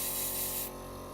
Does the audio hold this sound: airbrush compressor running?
yes